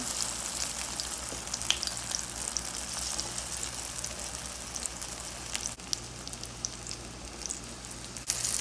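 Eggplant pieces frying in hot oil in a pan, a steady, dense sizzle with crackling pops that runs continuously throughout, no voices over it.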